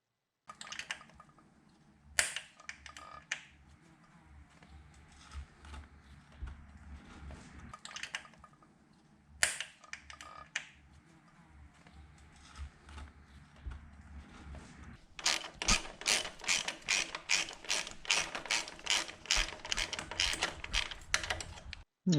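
Ratchet tightening bolts on the chrome cover of a 2003 Honda Shadow 1100 motor during installation, heard as scattered clicking bursts, then a steady run of rapid, fairly loud clicks near the end, with no talk.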